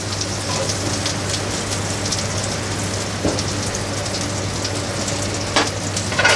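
A large knob of butter starts to melt in a frying pan, a steady hiss and faint crackle like light rain, with a couple of small pops, close and without talk.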